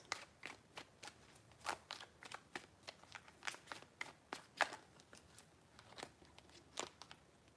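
Tarot cards being shuffled by hand, a soft sequence of quick riffling snaps and taps in an irregular rhythm, close and fairly faint, with no talking.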